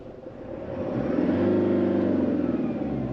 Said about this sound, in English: it sounds very much like a diesel engine. It isn't quiet in any way